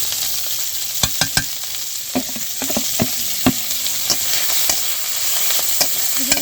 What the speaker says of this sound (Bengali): এখন সাজনা পাতাগুলো দিয়ে দেব, যেগুলো আমি রেখেছিলাম।